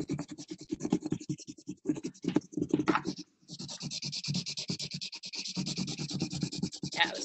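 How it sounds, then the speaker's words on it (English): A drying marker drawn across paper for an art project, quick scratchy rubbing strokes in uneven bursts with a short pause midway, close and fairly quiet. "This marker is running out on me, though."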